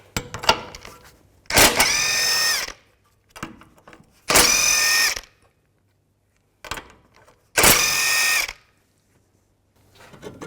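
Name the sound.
removing ball joint bottom nuts with 16mm socket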